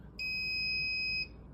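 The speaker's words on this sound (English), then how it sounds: "That's my alarm going off." A kitchen timer alarm sounds while pizza bakes in the oven, one sustained high electronic beep of about a second, loud and steady against a quiet room.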